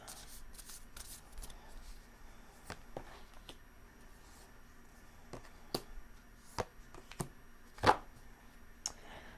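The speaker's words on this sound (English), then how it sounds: "All right, I need 3 cards from this deck, Spirit." A deck of tarot cards is shuffled by hand, giving soft riffling and a string of crisp snaps and taps that grow sharper toward the end, close up and quiet with no talk.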